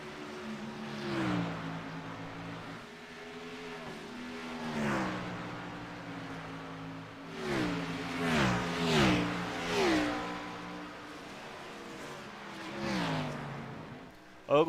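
Ford race cars from a racing game lap Watkins Glen, engines rising and falling through gear changes as cars pass close by, with a commentator talking over the steady motor drone.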